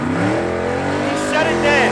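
Drag race car making a pass down the strip at night, its engine revving loud and close with a rising, sweeping whine as it accelerates, while someone talks over it.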